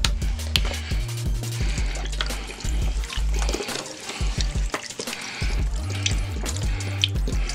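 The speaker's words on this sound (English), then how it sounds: "Next thing we're gonna add to this is a little bit of my beef broth, probably about 2 cups." Beef broth poured into a cooking pot for oxtail soup, a close, fairly loud liquid splashing and gurgling stream with uneven bursts and brief pauses.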